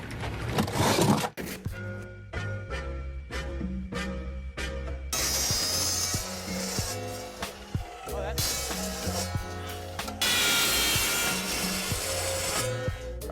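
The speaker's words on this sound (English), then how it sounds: "So I got this cool saw that's supposed to be able to cut metal and wood and all kinds of stuff." A saw rated for metal and wood works through steel tubing, starting with a burst of harsh grinding, then a string of short rasping strokes, then longer loud, buzzing cutting passes close by.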